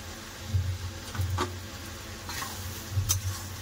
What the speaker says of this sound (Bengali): এবার সব ভালো করে খুব সুন্দর করে কষে নেব।